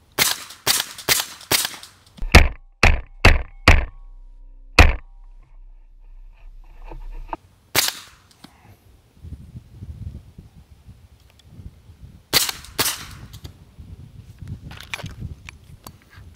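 Several sharp suppressed gunshots from a silenced SIG MPX fire in quick succession near the start, then further spaced shots and bursts follow, loud and close against a quiet outdoor background with no talking.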